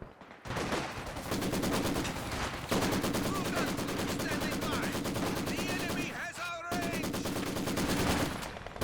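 Sustained rapid machine gun fire from the World War II strategy game Company of Heroes 2, dense and continuous bursts with brief pauses, loud and close, layered with battlefield effects and no talk.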